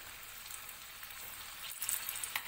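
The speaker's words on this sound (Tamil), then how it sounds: "இப்போ இதை நம்ம எண்ணெயில் போட்டு ஃப்ரை பண்ணி எடுத்துக்கலாம்" Sweet corn pakoda batter drops into hot oil on a low flame and fries with a soft, continuous bubbling sizzle, fairly quiet, with small crackling pops toward the end.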